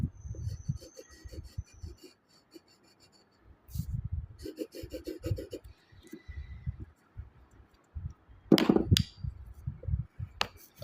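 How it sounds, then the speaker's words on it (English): An eraser rubs back and forth over a pencil drawing of a chibi girl on paper, in short scratchy bursts separated by pauses, close and fairly quiet, with faint background noise between strokes. "I'm going to erase this so that you can see it properly"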